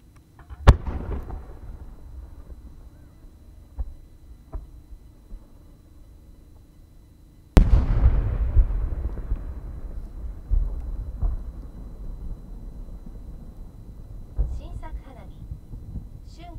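At the Omagari fireworks show in Japan, two sharp booming shell bursts ring out, each trailing into rumbling echoes and crackles. Smaller pops follow, and voices can be heard faintly in between.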